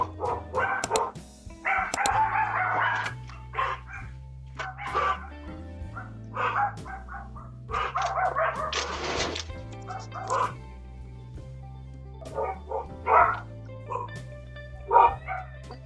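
Dogs bark and yip at a stranger at a home's front door, caught on a Ring doorbell camera: short bursts of barking repeat over steady background music.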